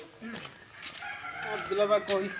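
Chickens cluck and squawk nearby in short irregular bursts, with some background murmur.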